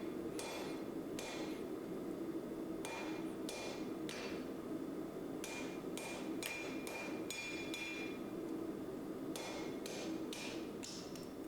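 Hammer forging Damascus steel for a hunting knife, bright metallic strikes landing in quick clusters of two to four blows with short pauses between, ringing out clearly over a steady background hum.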